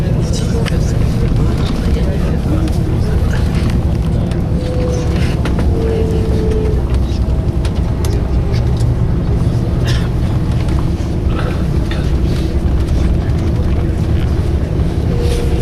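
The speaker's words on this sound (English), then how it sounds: "Cable car." A cable car runs with a steady, loud mechanical rumble and drone across volcanic terrain in the Canary Islands, while people talk nearby throughout.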